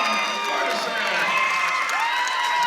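Crowd at a high school wrestling match, Wayzata versus Shakopee, cheering and whooping loudly after a pin, a dense continuous roar with shouts.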